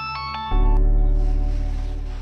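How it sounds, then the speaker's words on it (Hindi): A mobile phone breaks into a loud electronic ringtone after a brief quieter tonal lead-in, the ringing sustained and close in a Hindi-dubbed action love-story film, with no talking over it. "नाम लिया और फोन भी आ गया। चल फोन उठा।"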